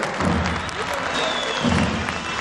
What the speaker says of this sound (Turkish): Alkışlarla diyelim maşallah.